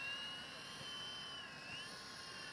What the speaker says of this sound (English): as a 3-channel airplane, it's flying pretty good